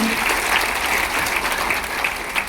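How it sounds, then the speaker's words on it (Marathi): Steady, enthusiastic applause from an audience fills the space, dense clapping sustained throughout without a break. "त्यांच्यासाठी एकदा जोरदार टाळ्या झाल्या."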